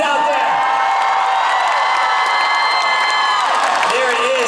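An audience at a Harry Potter celebration event cheering and whooping, a dense sustained roar of high voices and shouts that carries on loudly throughout.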